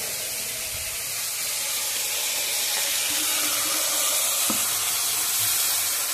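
Water poured into a hot pan, producing a steady, loud broadband sizzle and hiss that holds without a break, with faint clinks underneath.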